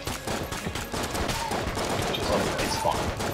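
Bullets firing in Enter the Gungeon, a dense, continuous rattle of rapid shots and impacts with game effects layered throughout, steady and loud.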